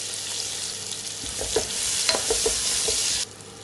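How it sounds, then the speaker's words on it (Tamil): Onions and spring onions sauté in hot oil over a high flame, giving a steady, loud sizzle with a few scraping stirs in the middle that cuts off abruptly near the end. No one speaks. "அதனால் ஹை ஃப்ளேமில் வச்சுட்டு வதக்குங்க."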